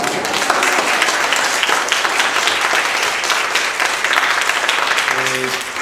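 Loud, sustained applause from an audience at a string quintet concert in an art museum fills the whole stretch, steady dense clapping, with a brief tonal note near the end.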